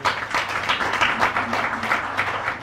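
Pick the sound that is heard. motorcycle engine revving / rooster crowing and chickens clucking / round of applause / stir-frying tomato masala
round of applause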